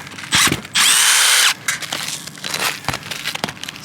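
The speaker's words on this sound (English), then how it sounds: "Stainless steel lag screw. You can see it going sideways into the rafter." Power drill driving a stainless steel lag screw sideways into a wooden roof rafter during a solar install: two loud, close bursts of motor whine, the second longer, then quieter scraping and handling knocks.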